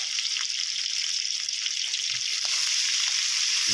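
Steady, bright sizzling and crackling from glass noodles stir-frying in a hot pan, continuous throughout with faint scraping and stirring clatter underneath.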